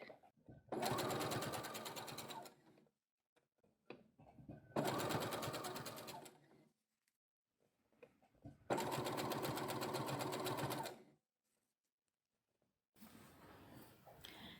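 A sewing machine stitches fold over elastic onto a vest top in three long, steady bursts separated by pauses, close and fairly loud, with a softer rustle of fabric handling at the end.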